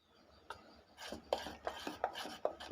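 Batter for bhaji being whisked in a bowl, a close, quiet series of rhythmic scraping strokes, roughly a stroke every half second, with no talking.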